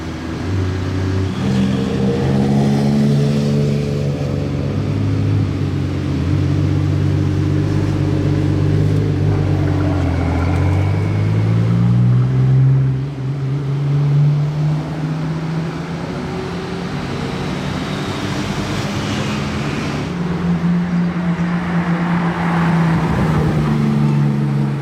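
Porsche GT3 RS sports car drives through Monaco, its engine droning and revving with rising and falling pitch sweeps, loud and close throughout without any voices.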